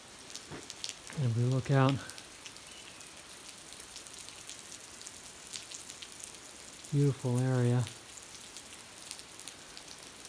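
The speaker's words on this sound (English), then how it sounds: "Kind of hoping the rain will stop" Steady rain patters and hisses outdoors in a mountain area near old mill ruins, with someone speaking briefly twice over it.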